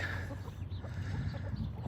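Chickens cluck on a farm as a rooster chases a hen, soft bursts of clucking over a low steady background in a quiet morning yard.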